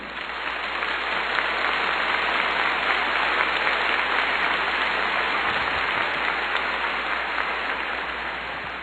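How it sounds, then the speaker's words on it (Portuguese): A church congregation applauds during a sermon, a dense, hissing wash of many clapping hands that stays even and continuous, heard somewhat distantly. "Pode aplaudir."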